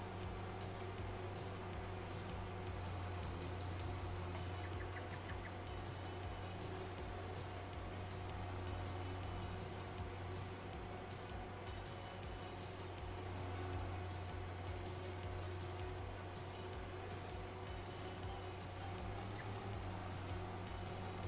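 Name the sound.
tractor engine in Farming Simulator 25 video game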